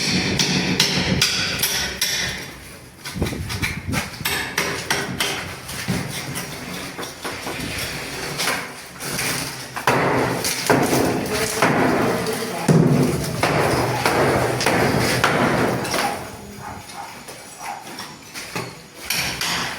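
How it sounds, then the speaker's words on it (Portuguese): Loud, dense scraping and chipping at a wall during a house renovation, a steady rough grind broken by hard knocks and thuds, with voices talking over it at times. "A gente continuou fazendo serviço e raspando a parede aí"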